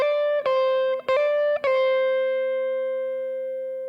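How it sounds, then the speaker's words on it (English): Electric blues guitar phrase with a hammer-on and a quick grace note: three sharp picked attacks, then a single sustained note ringing clearly and slowly fading, played alone. "I'm hammering on and then quickly doing this note"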